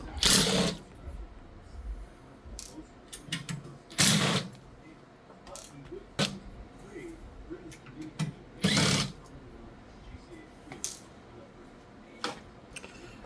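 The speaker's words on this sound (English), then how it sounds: "We just gotta remove them, and now I'll open up the panel." Screws are removed from the side of a server case with a screwdriver and the case panel is opened, giving scattered close clicks, ratcheting scrapes and a few louder clunks of metal parts handled.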